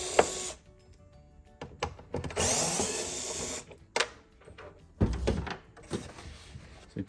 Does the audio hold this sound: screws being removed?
yes